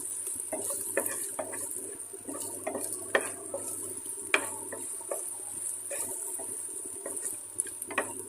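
Chilli powder masala frying in a pan while a spoon stirs it, repeated scraping and light metallic clinks over a quiet sizzle, steady and close; no talking.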